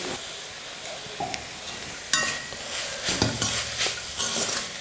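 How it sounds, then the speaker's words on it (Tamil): Cooked amaranth stem greens are stirred with salt in a pan: a soft sizzle with a spoon scraping and tapping against the metal, louder clatters in the second half and no talk. "உப்பு போட்டு நல்லா கலந்து விட்டுடுங்க."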